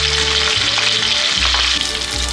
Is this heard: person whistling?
no